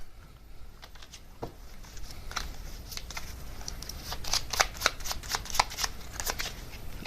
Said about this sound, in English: get some tarot cards to clarify that